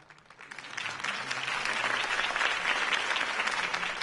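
Crowd applause in the video game Batman: The Telltale Series, a dense wash of clapping that builds quickly from a soft start and holds loud and steady, with a voice faintly mixed underneath.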